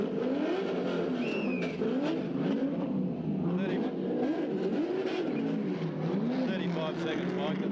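A race car at the 1990 Tooheys 1000 accelerates away from a pit stop, the engine note rising and falling through repeated gear changes, at moderate distance under continuous commentary.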